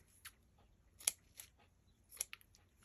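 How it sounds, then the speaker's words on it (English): Dull scissors snip paper for craft heart tags, making a few faint, sharp crisp cuts spaced irregularly in a quiet room. "Oh, these scissors are dull."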